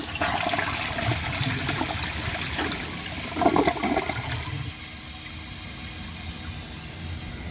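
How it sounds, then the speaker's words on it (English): A Vortens Vienna toilet flushes close by, with a strong rushing gush of water that drains and tapers into a quieter trickle and refill hiss. "let's give the Vortens Vienna a flush"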